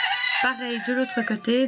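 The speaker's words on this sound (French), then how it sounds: "Désolée si vous entendez le coq qui chante" A rooster crows loudly and close by in a small country village, its drawn-out harmonic call rising and breaking into several pulses, while someone speaks French over it.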